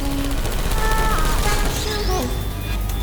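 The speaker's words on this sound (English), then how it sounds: "I heard gunfire!" Rapid bursts of gunfire crackle through a busy, loud Portal 2 game soundscape with whooshing effects and a voice shouting briefly.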